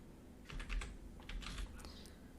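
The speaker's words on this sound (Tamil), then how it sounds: "வாங்க கூகுள் க்ரோமில் போயிட்டு NVSP அப்படின்னு டைப் பண்ணுங்கள்." A few quick bursts of keystrokes on a computer keyboard, close and fairly quiet, with short pauses between clusters of taps.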